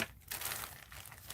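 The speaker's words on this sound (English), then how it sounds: "I might have to just snip the bag." A large clear plastic bag crinkles and crackles in quick, close bursts as it is snipped open, with no talking.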